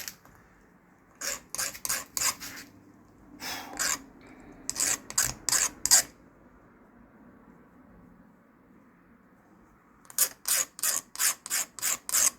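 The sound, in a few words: filing to deburr a metal truss rod piece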